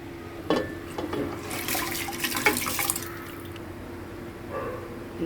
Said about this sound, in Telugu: రైస్ కుక్కర్లో 2 గ్లాసుల బియ్యంకు 4 సార్లు నీళ్ళు పోయాలి